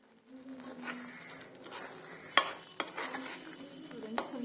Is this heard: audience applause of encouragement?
no